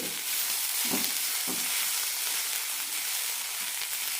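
Grated coconut for cucumber chutney fries in a hot pan with a constant hissing sizzle. A few soft stirring scrapes come through near the start, and no one speaks.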